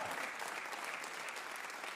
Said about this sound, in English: they deserve a huge round of applause for all their hard work